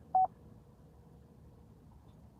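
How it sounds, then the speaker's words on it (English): A telephone gives a brief two-pulse electronic tone near the start, then only a low, steady background rumble remains with no talk. "Why did I hear a telephone ringing?"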